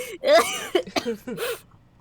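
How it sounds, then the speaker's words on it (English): A short burst of raspy coughing and throaty wheezing from the video game Toonkind, a few harsh hacks in quick succession, close and fairly loud. "just coughing and wheezing"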